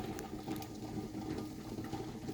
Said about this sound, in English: because the fire is a bit high, so the water boiling very hot